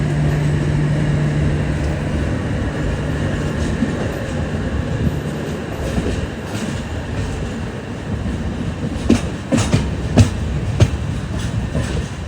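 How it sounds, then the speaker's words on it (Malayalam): Visakhapatnam–Kollam Express pulling into platform 4 at Kollam Junction: a steady low rumble of rolling coaches with rail clatter and a few sharp metallic clanks near the end, no voices. "അങ്ങനെ നമ്മുടെ വിശാഖപട്ടണം കൊല്ലം എക്സ്പ്രസ് കണ്ട് കൊല്ലം ജംഗ്ഷനിലെ പ്ലാറ്റ്ഫോം നമ്പർ 4 കയറുന്നത്."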